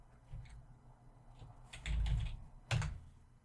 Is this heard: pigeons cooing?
no